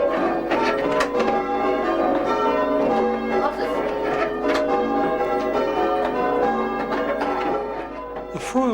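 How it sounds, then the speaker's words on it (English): Church bells of St Mary's, Froyle, ring in a continuous, overlapping peal, loud and resonant, with tones layering over one another throughout. "bell ringers have been ringing at St Mary's for nearly 10 years"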